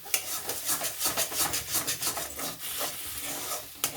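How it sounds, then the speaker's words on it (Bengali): A spoon slowly stirs mashed green pea curry (motorsuti bata tarkari) with asafoetida in a pan over low heat, giving repeated close scraping, rubbing strokes in a steady rhythm with faint sizzling underneath. "কম করে আস্তে আস্তে এবার নাড়াবো"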